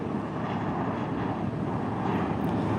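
A JetBlue airliner at Tampa International Airport roars past as a steady, broad engine rumble, loud and continuous throughout with no talk.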